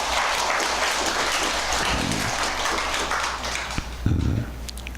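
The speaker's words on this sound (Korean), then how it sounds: "그렇다고 생각하시는 분만 박수를 한번 쳐보세요." Audience at a Buddhist dharma service at a Jeonbuk Buddhist hall claps together, a dense steady wash of applause from a roomful of listeners that holds evenly and stays moderately loud throughout.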